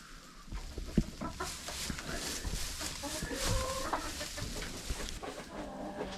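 Chickens clucking inside a coop during a winter storm with snow and freezing rain, soft scattered clucks and murmurs from several hens, fairly faint and close, with a little quiet talk.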